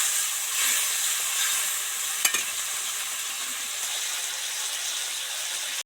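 Spices, turmeric and chillies fry with water in a pan, giving a steady close sizzle and hiss while being stirred, with one sharp scrape partway through.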